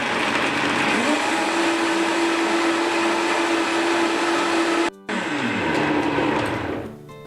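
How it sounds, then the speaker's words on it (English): Blender whirring through kale salad dressing, a loud steady motor whine that briefly cuts out and restarts, then winds down at the end. "you want to blend it until it's nice and creamy and smooth"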